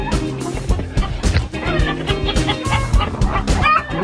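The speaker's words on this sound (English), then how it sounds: "That's two of our new chickens." Upset, agitated chickens squawk and cluck in a dense, continuous jumble, close and fairly loud, with some sharp bark-like calls mixed in.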